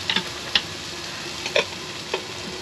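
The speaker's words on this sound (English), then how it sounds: "At this stage you want to keep moving it around so you don't want to burn the garlic." Crushed garlic and onions frying in a pan with a low, steady sizzle, broken by a few sharp scraping clicks as a utensil stirs and moves them around.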